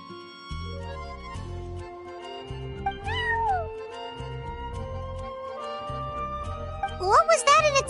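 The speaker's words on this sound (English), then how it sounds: "that's my neighbor's cat" A cat meows in the video game Genshin Impact, a couple of short rising calls over background music with a tinkling jingle and a livelier cry near the end.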